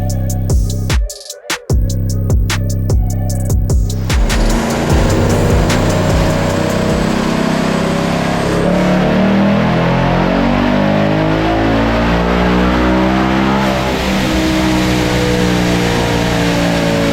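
A 2022 Mustang GT with an ESS G3X supercharger and 120mm pulley on E85 fuel blips on a dyno, then pulls through a long, loud full-throttle run with the engine note climbing steadily up the rev range.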